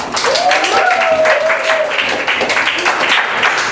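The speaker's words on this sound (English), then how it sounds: "So clap for him." Students in a science classroom clap for a classmate in a lively, continuous burst of close, loud applause, with a voice briefly heard at the start.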